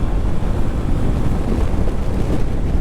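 Loud, continuous wind roars and buffets against the microphone at a windy spot on a motorcycle ride to Kaybiang Tunnel, a dense rumbling rush with no pauses and no voices.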